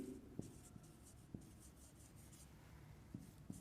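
Pen writing on paper in a quiet room: faint scratchy strokes with a few soft taps, low and close, no voices.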